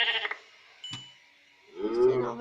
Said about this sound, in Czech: Ještě jedna ovečka.